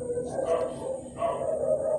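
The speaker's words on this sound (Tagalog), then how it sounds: "Ang daming aso. Kaway-kaway mga aso." Dogs bark in the background, a couple of short muffled barks heard at moderate distance with no talk over them.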